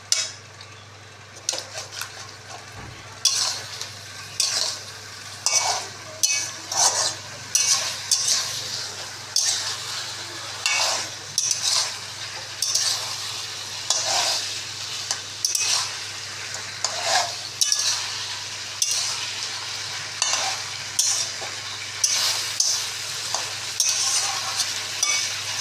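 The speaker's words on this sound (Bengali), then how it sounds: "এখানে আমি ফেটে দেবো খুন্তি দিয়ে।" A spatula stirs chicken kasha frying in a pan, giving repeated rhythmic scrapes and clacks over a constant sizzle, close and steady for the whole stretch with no talking.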